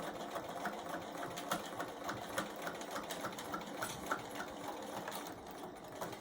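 A sewing machine stitches a half-inch seam on a tote bag, running in a steady fast rhythmic whir that stays close and even throughout, with no talking.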